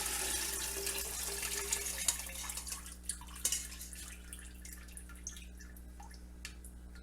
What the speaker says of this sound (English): I'm going to just strain that in here, make sure I get all the bits and pieces out.